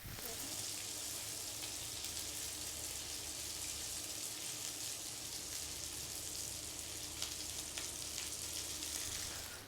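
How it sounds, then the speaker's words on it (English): Butter sizzles in a hot pan with stock for a Cornish carbonara, a steady close crackling hiss that holds evenly throughout. "Okay, now I'm going to add some butter."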